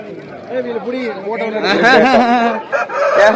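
Chickens and chicks being sold cluck and chirp amid a busy village market crowd, with people talking close by over steady market chatter.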